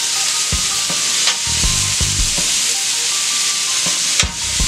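Country style ribs searing in a hot pan, with a constant loud hissing sizzle and occasional dull knocks and scrapes as the meat is moved, close up.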